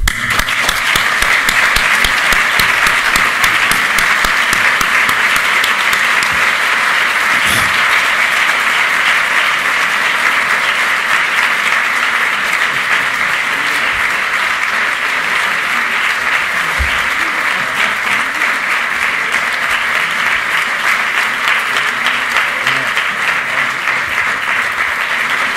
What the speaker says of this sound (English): Please join me in giving a round of applause to Pieter and Lucia.